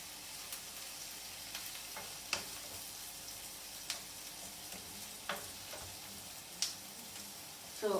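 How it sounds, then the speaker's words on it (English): Onions fry in a pan with a soft, steady sizzle while a spoon stirs them, bringing occasional light scraping clicks. The cooking sounds are quiet and continuous, with no talking. "So our onions are frying well."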